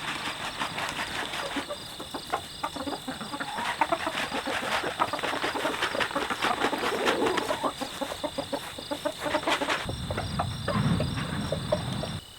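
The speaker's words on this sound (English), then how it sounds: "Oh, but I have to wrangle up the chickens first." Chickens cluck in repeated bursts close by in a backyard, over a steady bed of insect chirping, with a louder cluster of clucks near the end.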